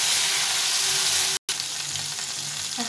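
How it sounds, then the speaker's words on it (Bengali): Tomato and spice paste of ginger, cumin and chilli frying in a pan, a steady close hiss of sizzling oil with light stirring, broken by a brief silent gap midway. "টমেটোটা ভেজে দিয়ে আর মশলাটা ভেজে নেব।"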